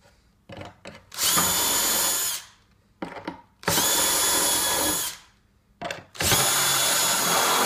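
Power drill driving drywall screws into a wall, three loud whirring bursts of about a second and a half each with short pauses and clicks between them, close up.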